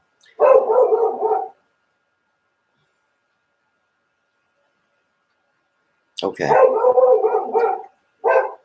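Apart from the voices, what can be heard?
dog barking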